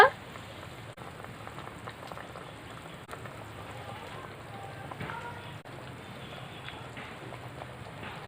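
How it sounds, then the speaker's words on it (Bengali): An egg omelette curry simmers in a pan after water has been added, giving a steady close bubbling and sputtering that runs on evenly throughout with no voices. "এবার ভালো করে ফুটিয়ে নেব জল দেওয়ার পর প্রায় পাঁচ ছ মিনিট ধরে ফুটিয়ে নিয়েছি"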